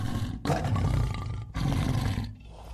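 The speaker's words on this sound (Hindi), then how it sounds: "ये तो सचमुच शेर की आवाज है।" A lion roars in long, loud, rumbling bursts, two heavy roars close together followed by a fading tail, with no voices over them.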